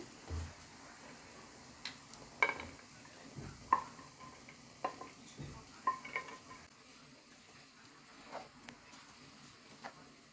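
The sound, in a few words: rice and raisins being stir-fried in a pan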